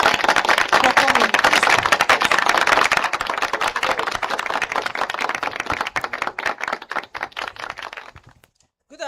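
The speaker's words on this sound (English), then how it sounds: "Please, a round of applause for Mrs. Adewale Abiodun for the good message." An audience applauds a speaker at a World Food Safety Day and MSMEs Day event, sustained dense clapping that fills the room for several seconds before tapering off into silence.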